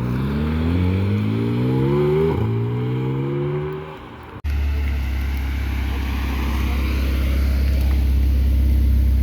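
Sports cars pull away from a cars and coffee meet, including a Ferrari Pista, Porsche 911 Turbo S, GT4 RS and Audi R8. Loud engines climb through the gears with revving upshifts, then a deep, rumbling roar lingers nearby.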